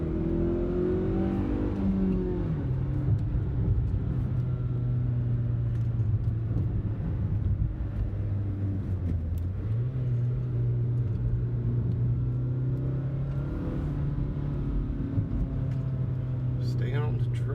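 A car engine on a road accelerates with a low rumbling drone that climbs and shifts pitch as gears change, heard from inside the car and steady throughout, with someone talking over it.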